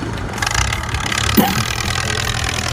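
A used Kioti EX50 farm tractor's diesel engine runs at a steady idle nearby, a constant low rumble with a brief clunk partway through.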